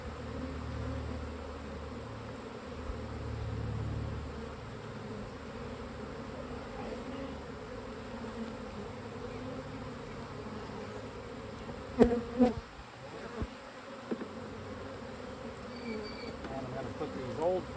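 Honeybees buzz steadily around an open hive during an inspection, forming a continuous droning hum with occasional close-passing bees, some clunks of equipment being handled, and a faint voice.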